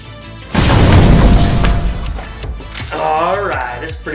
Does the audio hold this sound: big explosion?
yes